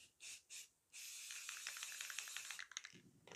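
A can of clear satin lacquer sprays a light coat onto a hand-made copper printed circuit board: two short hisses, then a longer continuous spray of about two seconds, close and fairly quiet.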